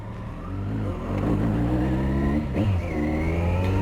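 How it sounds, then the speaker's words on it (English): A car spinning its wheels and accelerating hard on a Scotland road trip, engine revving up with a rising pitch and a brief surge midway, loud and close, with no talking. "Wheel spin."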